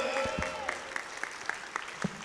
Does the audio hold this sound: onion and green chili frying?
no